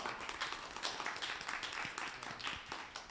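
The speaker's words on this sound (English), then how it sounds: "yourself a round of applause." Participants at a DJ workshop give a round of applause, a faint, distant patter of clapping hands from a small group, steady for a few seconds with no clear talk.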